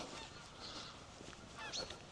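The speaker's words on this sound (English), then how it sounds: "I can hear these geese out here flying" Geese honk as they fly overhead outdoors, a few faint, distant calls rising and fading over a low background hiss.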